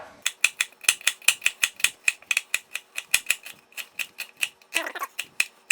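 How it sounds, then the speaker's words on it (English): A knife chops onion on a cutting board for marinara sauce, a fast, even run of sharp, close taps that speeds up briefly near the end, with no talk. "I'm just gonna give this a little bit more of a chop"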